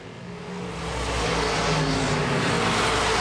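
Open wheel modified race cars roar around Baer Field Speedway during a feature race, a loud, dense wall of engine noise building in intensity as the pack approaches and holds close.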